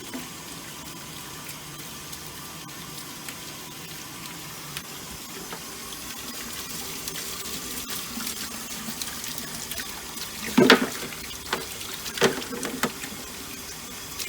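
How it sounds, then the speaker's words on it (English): Tap water runs steadily into a basin while parts of a Nilfisk SC1500 floor scrubber are rinsed out, a soft continuous gush with a few louder splashes near the end. "put it in the basin, and then you just go ahead and rinse it out."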